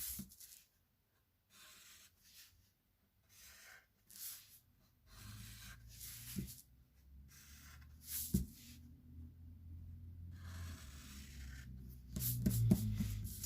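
A pencil on paper sketches the outline of a cube, soft scratching strokes in irregular bursts, faint and close, with some low background rumble and rustle.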